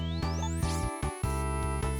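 Mega Man stage music from the video game plays loud and steady, a chiptune-style melody over a repeating pulsing bass line, with brief dropouts in the low end.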